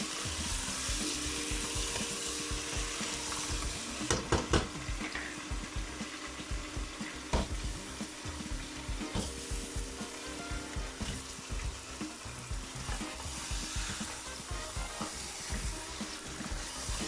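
Beef trotters frying with cumin and curry leaves in a small pressure cooker, a steady loud sizzle with occasional clacks and scrapes of stirring throughout.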